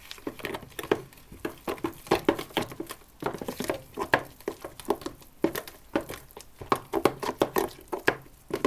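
Soft, wet squishing and patting in an irregular rhythm as flour, sugar and warm milk are stirred into a thick dough in a bowl close by, with no talking.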